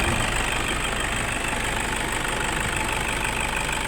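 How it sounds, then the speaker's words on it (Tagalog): A Toyota Innova engine runs steadily after EGR and bearing repairs, with an even, smooth hum and a faint rhythmic ticking, close by with no voices. "Tunog makina na siya."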